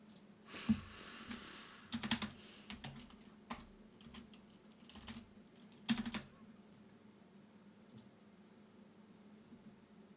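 Quiet, close keyboard typing at a streaming computer setup, a few scattered bursts of clicky keystrokes with pauses in between and no talking.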